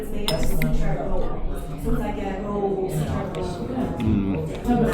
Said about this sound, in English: So I'm gonna cut through the fish.